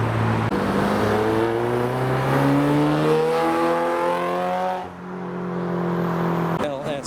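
An R32 arriving at a Japanese tuner car meet in Reading, its engine revving up through rising gears, loud and near, then dropping off before a brief noise at the end.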